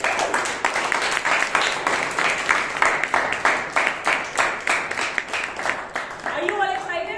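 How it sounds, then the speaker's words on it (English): Audience at a Bangalore Toastmasters club meeting claps in a quick, fairly even rhythm for several seconds, with a voice rising briefly near the end. "let's give a big round of applause to our all-women role takers"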